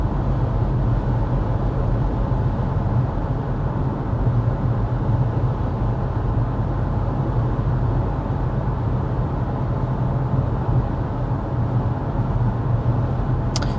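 Interior road noise of a 2024 Hyundai Tucson cruising at 55 mph, a steady low rumble of tires and wind filling the cabin, constant and unbroken with no talking.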